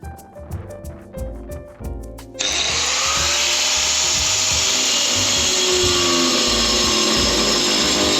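A power saw cuts siding board for a work shed, starting abruptly after a few soft knocks and then running as a loud, steady, continuous whine to the end.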